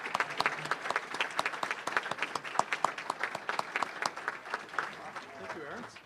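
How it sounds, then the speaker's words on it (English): A room full of people at a Rotary Club meeting claps steadily, a dense patter of applause at moderate volume that fades slightly toward the end. "Let's give them a big round of applause."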